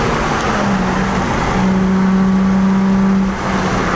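A Nissan 350Z is driven steadily, its engine holding a loud, even drone throughout with a slight dip near the end, as if easing off around a shift.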